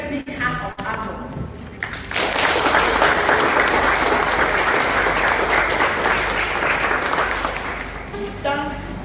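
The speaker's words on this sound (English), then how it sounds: "Let's give them a very big hand of applause." An audience bursts into loud, sustained applause at a humanitarian event in Bamenda supporting market fire victims, rising abruptly after brief speech and tapering slightly before talk resumes at the end.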